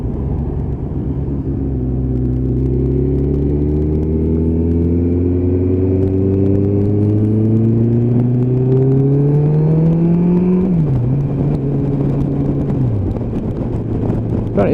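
Motorcycles on a training ride with an assessor, engines droning and rising in pitch together as they accelerate, loud and continuous with steady wind rumble, then a gear change and a dip.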